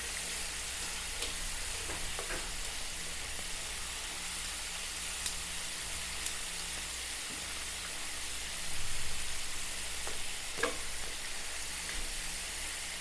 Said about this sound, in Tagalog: kailangan ma-brown ma natin lahat itong ating karne